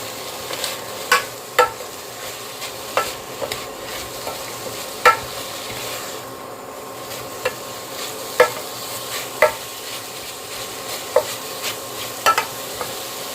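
Pork stir-fries in curry paste for a Thai pork curry with pumpkin and dill. A steady wok sizzle runs underneath, and a spatula scrapes and clicks at regular intervals, loud and near, with no talk.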